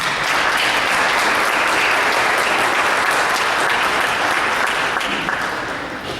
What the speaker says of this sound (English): One more round of applause to the middle school